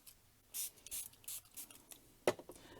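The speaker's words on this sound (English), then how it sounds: "We're going to spray our watercolor paper." Several short hissing bursts from a spray bottle spraying water onto watercolor paper, followed by a sharp tap, close by and otherwise quiet.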